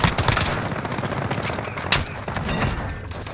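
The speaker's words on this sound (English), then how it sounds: "I'm taking fire!" Rapid automatic gunfire from a Call of Duty match rattles loud and close in dense continuous bursts, with a few sharper single reports standing out near the end.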